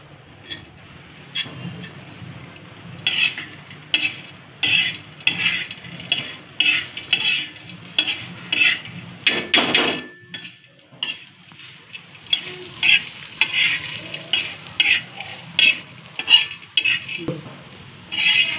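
Urad dal, chickpeas and onion roast in a little oil in a pan, with a spoon scraping and stirring in a steady repeated rhythm over a soft sizzle, close and without talk.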